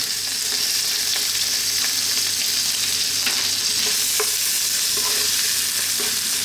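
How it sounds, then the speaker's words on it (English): Onion, olives and chopped garlic fry in a pan for a vegan mushroom and bell pepper pasta sauce, giving a loud, continuous hissing sizzle with occasional light stirring clicks and no talking. "Let's just throw this around in the pan for like 2 to 3 minutes."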